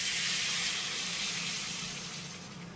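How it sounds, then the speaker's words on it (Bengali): Water is poured into a pan of frying lentils and long beans, setting off a loud, steady steamy hiss and sizzle that slowly fades. "এইবারে আমি এই ডাল আর সবজির ভিতরে দিয়ে দেবো জল।"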